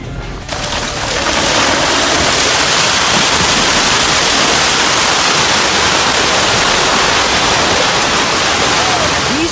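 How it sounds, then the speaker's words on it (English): Ocean waves surge over a beach and sweep away a house on stilts, producing a continuous loud roar of rushing, crashing water that fills the whole stretch. "A house on stilts, seemingly secure, is suddenly overwhelmed by the waves. It's swept away, tumbling towards the ocean."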